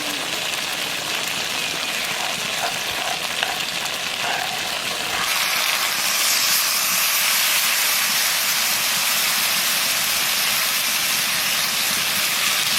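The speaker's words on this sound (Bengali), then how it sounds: "এবার দিয়ে দেবো সর্ষে বাটা" Mustard paste hitting fried okra in a hot pan, with a moderate hiss that jumps into a louder, dense, continuous sizzle about halfway through and holds steady.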